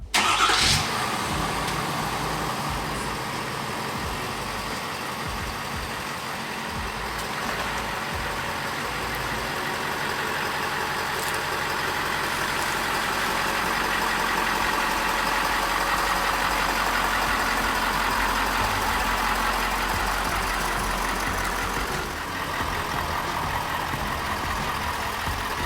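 A 2022 Ford Super Duty diesel pickup engine cranks and catches, then settles into a steady, loud idle that holds for the rest of the clip.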